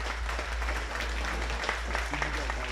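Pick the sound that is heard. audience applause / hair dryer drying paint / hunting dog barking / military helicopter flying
audience applause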